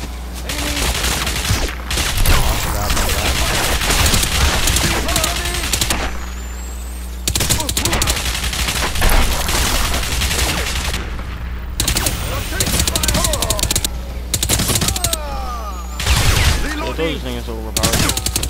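Sustained automatic gunfire from a favourite, slightly overpowered gun in the video game Crysis, loud bursts repeating across the stretch with short pauses, a voice talking over parts of it.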